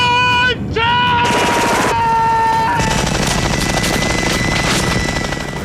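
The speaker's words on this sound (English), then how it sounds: "Shooting those many bullets coming through that gun" Machine gun fire from the 1987 film Predator, a dense, loud continuous rattle of rapid bursts over a swelling orchestral score and rumbling effects, filling the whole stretch without pause.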